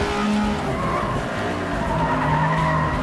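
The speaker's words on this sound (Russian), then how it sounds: "Здесь-то должно быть разлито масло. Вот оно. Ой. Занесло все-таки." A race car in FlatOut: Ultimate Carnage skids on spilled oil, tires squealing loudly over a roaring engine for a few sustained seconds, close and continuous.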